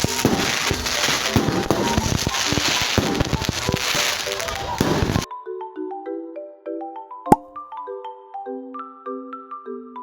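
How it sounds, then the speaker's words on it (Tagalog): Fireworks at a town fiesta in Juban crackle and pop densely and loudly for about five seconds, then stop abruptly; a melodic electronic tone sequence with one sharp bang follows. "Siguro mga 15 minuto din nagtagal ang fireworks."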